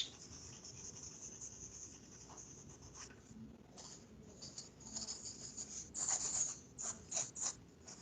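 Pencil shading lines on paper in an art drawing: steady soft scratchy strokes, close and fairly quiet, growing into brisker repeated strokes toward the end, with no voices.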